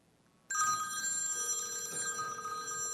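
A telephone rings after a click-to-call from a customer service software system, starting abruptly after a moment of quiet and then holding a steady electronic ringing tone alone.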